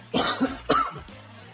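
A person coughs twice in quick succession, close and fairly loud, with a softer throaty rasp after, no speech around it.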